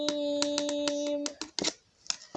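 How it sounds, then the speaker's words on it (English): Handclaps sound as a quick series of sharp claps over a held musical tone at a ballgame-style performance, then scattered looser claps as the music stops. "Real claps."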